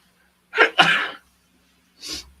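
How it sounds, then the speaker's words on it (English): One person gives a single sharp sneeze in two quick bursts, loud and close in an otherwise quiet room, followed by a brief softer exhale or sniff a moment later. "I have to sneeze."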